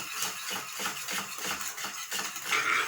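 A spoon scraping and stirring thick milk peda mixture with ghee in a pan on the stove, repeated rhythmic metallic strokes close by, with no talking.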